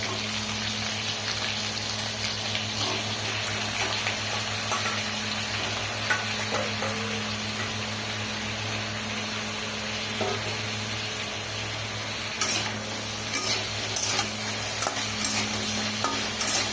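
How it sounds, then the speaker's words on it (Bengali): Pieces of spiny gourd (kakrol) fry in hot oil with a steady, continuous sizzle and a constant background hum. Occasional stirring clatter joins in near the end. "কাঁকরোলগুলোকে আমি দিয়ে ভালো করে ভেজে নেব।"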